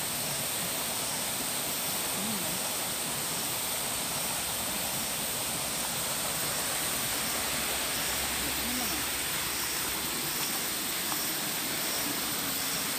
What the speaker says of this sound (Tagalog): Yung Agos lang yan.